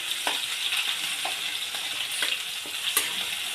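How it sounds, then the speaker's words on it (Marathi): Ginger-garlic paste and a green chili sautéing in hot oil in a pan, a bright close sizzle broken by small clicks of stirring. "अद्रक लसूणची जी पेस्ट होती ती घालून घेते एक हिरवी मिरची पण टाकलेली मी सोबत छान प्रकारे परतून घ्यायचं आहे"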